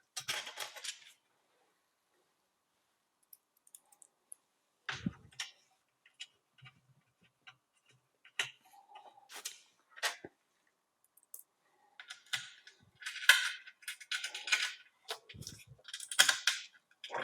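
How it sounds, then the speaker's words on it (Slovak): Screws being fastened into the left frame of an Algolaser Alpha MK2 laser engraver, sparse quiet clicks and scraping ticks with long silent gaps, then denser bursts of handling near the end. "A následne vezmeme tie šrouby a ľavý rám upevníme."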